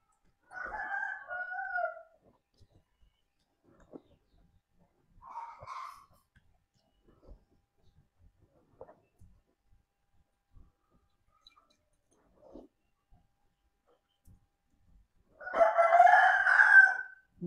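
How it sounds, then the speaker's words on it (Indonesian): A rooster crows in several separate bursts outdoors, with a longer, louder crow near the end and quiet pauses between the calls. "Di sini ada suara ayam."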